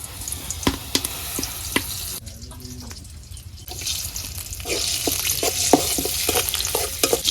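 Oil fries in a hot wok (kadai), a steady sizzle broken by sharp clinks and scrapes of stirring, growing louder and busier toward the end.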